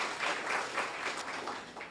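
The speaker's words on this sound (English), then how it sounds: "Give her a round of applause." Audience at a student internship programme closing ceremony applauds, a short stretch of even, continuous clapping at moderate volume with no clear talk over it.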